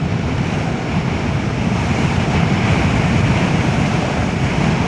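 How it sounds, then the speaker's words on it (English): Strong wind buffets a rider beside a Kawasaki Vulcan S motorcycle, making a loud, continuous roaring rush with no breaks. "God, it's windy."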